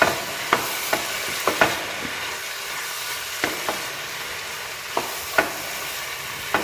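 Food frying in mustard oil in a home kitchen pan: a steady close sizzle with a series of sharp, irregular clinks and scrapes from stirring, and no talking.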